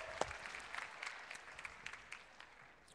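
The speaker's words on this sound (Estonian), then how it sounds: "Teeme neile suure aplausi" Audience applause at an opening show session of an Estonian event, a moderate steady clatter of many hands, fairly faint and somewhat distant, with no talking over it.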